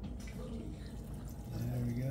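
A Bezzera Aria PID espresso machine flushes water in a short, steady, low hiss of flowing water, fairly quiet, growing slightly stronger toward the end, with a faint voice nearby.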